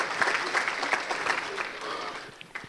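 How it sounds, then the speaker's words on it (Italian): Warm applause from a town council audience honoring the council president's birthday, a dense, steady wash of many hands clapping together in a meeting hall, fairly loud and continuous, with a few voices mixed in. "facciamogli un applauso"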